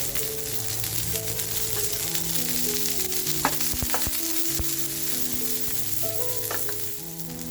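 Garlic and ginger pieces followed by onion sizzle in hot oil, a dense continuous frying hiss, close and fairly loud, with a few sharp clinks of a utensil and no voices.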